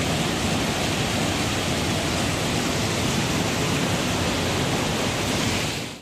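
Putudi Waterfall in Phulbani roars as a steady, loud, dense wash of falling water that runs unbroken, with no voices over it.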